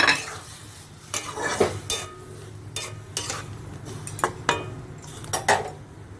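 Poppy-seed sunsunia greens curry is stirred in a pan with a metal spoon, producing repeated close clinks and scrapes against the pan over a soft sizzle, steady throughout with no talking.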